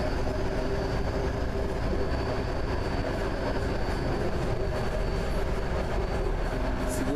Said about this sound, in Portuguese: o Dico tá no metrô.